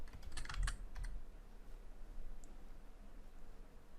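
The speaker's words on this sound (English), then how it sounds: "Type some more text." A few quick keystrokes rattle on a computer keyboard near the start, with a couple more taps after them, before quiet room hiss takes over.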